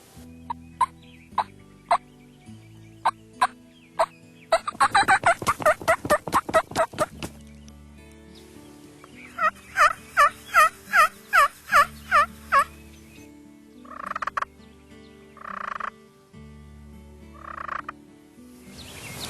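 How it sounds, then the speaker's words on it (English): A wild turkey gobbles in rapid rattling bursts several times, fairly close, during a Kentucky turkey hunt, amid outdoor background with frog-like croaks and scattered calls. "if they're going to gobble, they're going to gobble"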